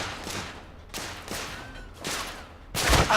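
Gunfire from the video game The Order: 1886: several loud, sharp shots with irregular gaps between them, the last burst the strongest, over a low background hum.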